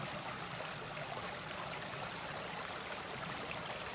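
Stream water flows steadily and close by, a constant broad rush with no pauses or voices.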